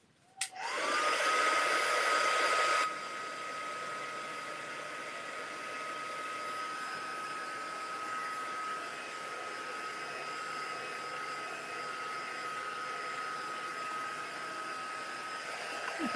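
A heat tool blasts loudly for a few seconds, then settles into a steady, even whine while it dries and flattens wet paper during a scrapbooking session.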